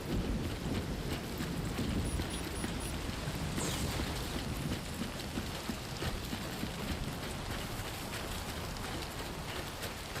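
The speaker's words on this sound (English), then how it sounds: "It's raining" Steady broadband hiss of heavy rain in the video game Death Stranding 2 fills the whole stretch, loud and continuous, with faint tapping and a brief swish partway through.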